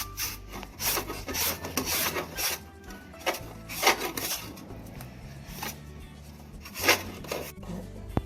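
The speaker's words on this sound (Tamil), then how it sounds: "தோலை சீவி எடுத்துக்கலாம்." A knife scrapes the skin off a raw banana in repeated rasping strokes, close and fairly loud, with short pauses between passes.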